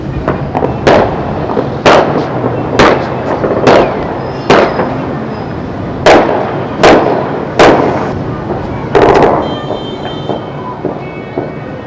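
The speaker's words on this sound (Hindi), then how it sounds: "नॉन स्टॉप फायरिंग हो रही है" Gunshots fired during the Basant kite festival in Rawalpindi, sharp loud single bangs repeating every second or so, some echoing, heard from a rooftop over a low background hum.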